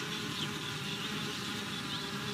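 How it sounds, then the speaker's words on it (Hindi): Honeybees buzz steadily around a hive on a hot summer day, fanning with their wings to cool it; a dense, continuous droning hum at close range, with no voices. "They even fan the hive with their wings to keep it cool"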